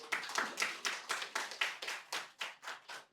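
A small audience claps through a spiritual talk on the Gita, a few pairs of hands striking in a loose, uneven rhythm of about a dozen close, fairly quiet claps, with no voices over them.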